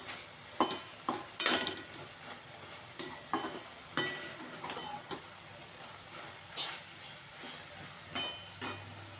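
Ridge gourd vegetable being stir-fried in a pan: a soft sizzle under repeated scraping and stirring strokes, with irregular clatters of the spatula against the pan, close and fairly quiet.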